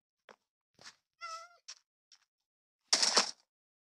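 Cat meowing in the horror video game The Rake, a short harmonic meow among faint scattered clicks and taps, then a louder burst of noise, heard close and alone.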